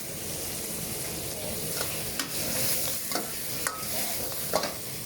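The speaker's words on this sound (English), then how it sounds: "Fry a little bit, 1 minute, and then you put all this seafood, prawn" Prawns and squid stir-fry in a hot pan, a loud continuous sizzle close up with repeated sharp scrapes and clacks of the stirring utensil.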